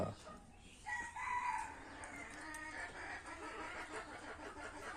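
Chickens on a small Bangladeshi farm cluck around a rooster whose drawn-out crow rises clearly after a moment, heard from a short distance at modest volume, with no voices over it.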